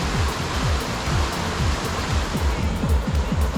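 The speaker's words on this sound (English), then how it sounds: "I bet it's really dug out right underneath the waterfall." A waterfall at Brown Mountain Recreation Area in North Carolina rushes loudly and continuously, a broad steady roar of falling water close by, with no talk.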